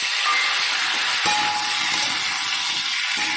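Green peas hit frying potatoes in a pan for a Bengali potato curry, giving a steady close hiss of sizzling with a sharp clink near the middle and no voices.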